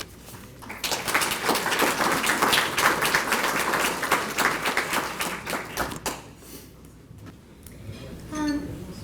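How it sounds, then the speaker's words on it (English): Warm applause at a scholarship reception greets a recipient about to speak, with dense clapping for around six seconds that then fades into scattered claps and room noise. "Can you clap it up for Ana?"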